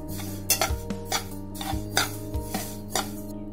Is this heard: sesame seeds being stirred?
yes